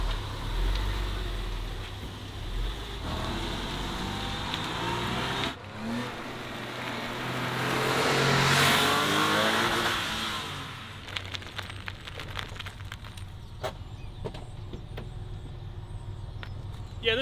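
A Porsche 911 converted into a race car on racing slicks, its engine droning steadily, then swelling in a revving surge before settling back to a rougher, uneven idle with scattered clicks and knocks.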